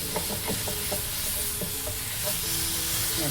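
Raw mango pieces and jaggery cook down in their own juice with no added water, giving a steady close sizzle and bubbling with stirring scrapes and clinks of a spoon in the pan throughout.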